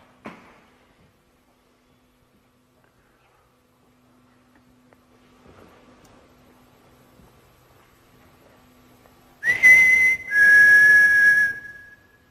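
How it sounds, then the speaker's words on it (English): Near silence with faint hum in the disused Aldwych Tube Station in total darkness, then a loud whistle breaks in near the end, a high sustained tone lasting a couple of seconds. "What are you hearing? Whistling."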